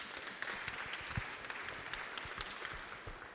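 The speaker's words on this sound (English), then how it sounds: "I think our panelists deserve a round of applause" An audience at a panel discussion on faith, values and leadership gives a dense, crackling round of applause that holds at a steady level throughout.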